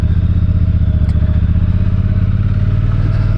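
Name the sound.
Triumph Thunderbird 1600 motorcycle engine with stock exhaust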